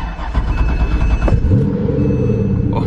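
A 6.2 liter LS3 V8 cold-starts close by: a grinding crank catches at once into a loud, deep roar that settles into a high, steady fast idle with rumbling low tones.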